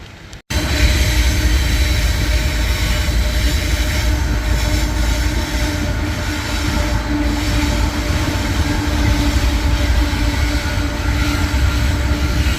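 A train passes nearby out of sight of a bike towpath near Brunswick, giving a loud, continuous rumble of rolling wheels with faint squeals and rhythmic clatter that holds throughout.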